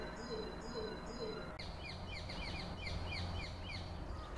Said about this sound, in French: Des oiseaux par-dessus.